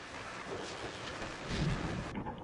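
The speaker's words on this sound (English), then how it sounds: "that storm we all felt coming is finally here" Steady rain pours in a video game thunderstorm, with a deep rolling rumble of thunder swelling midway before the downpour cuts off abruptly near the end.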